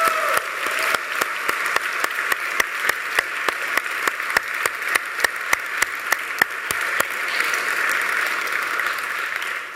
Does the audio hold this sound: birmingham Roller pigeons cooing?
no